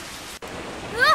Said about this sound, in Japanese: わ、雨だ。